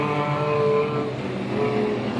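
Production race cars at Gympie Speedway roar up the straight together, a steady, loud engine drone with a sustained whine rising over it for the full stretch, no voices on top.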